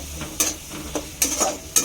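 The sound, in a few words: stirring spices in a frying pan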